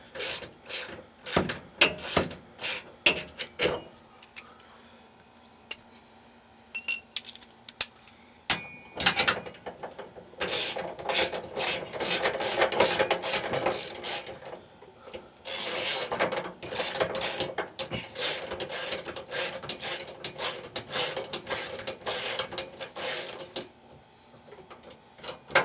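A bolt with a lock washer is ratcheted tight while fitting a Timbren bump stop on a 2023 Ford F150, giving rapid close clicking bursts broken by short pauses, with a denser run of ratchet clicks in the second half.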